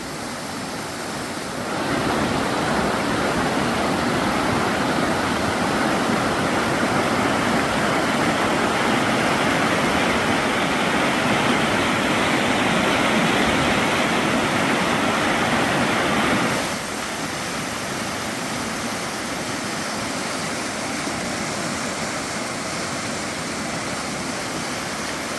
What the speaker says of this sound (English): This would be Jenny Creek looking upstream from the bridge.